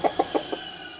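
A hen gives four quick clucks in a short, evenly spaced run, close and clear against a quiet background.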